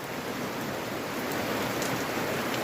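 Rain pours down in a continuous, even hiss during a heavy downpour with flooding, filling the whole stretch with no voices.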